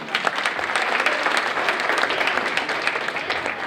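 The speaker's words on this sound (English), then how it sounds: "let's clap it up for Josias." An audience at a Kenosha Kindness recognition event applauds for Josias Ferris, a steady, dense wash of clapping from many hands lasting a few seconds.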